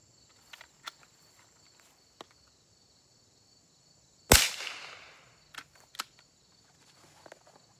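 A Mossberg 340TR rifle fires a CCI rimfire round at targets. One sharp crack with a short fading tail stands out, with a few faint clicks and handling noises before and after.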